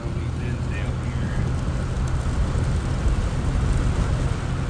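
Steady rain falling outdoors over a farm field of corn and wheat, a dense continuous hiss with low rumble throughout, fairly loud and unbroken, with no voices.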